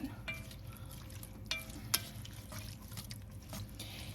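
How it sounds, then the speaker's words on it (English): Beef stroganoff being stirred in a searing pan, with a soft continuous sizzle and a few light scrapes and taps of the utensil close by. "we'll stir this around a bit"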